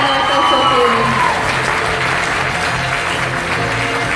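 An audience applauds at a singing competition semifinal results announcement, with steady, fairly loud clapping that follows a sustained musical tone fading in the first second.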